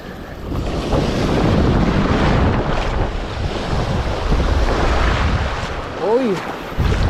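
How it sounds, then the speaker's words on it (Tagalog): Strong waves crash and surge at a windy seaside fishing spot, with wind buffeting the microphone throughout and a voice briefly heard near the end. "malakas ang alon master"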